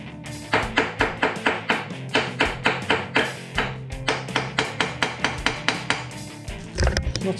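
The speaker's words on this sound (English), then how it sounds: "need a hammer" A hammer raps a Honda CB500X rear foot peg in an even series of about twenty sharp metallic taps, close and clear, with a brief clatter at the end.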